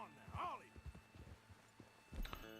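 Horse hooves clip-clopping in Red Dead Redemption 2, a few soft uneven hoof thuds at a slow walk, faint and mixed with brief voices.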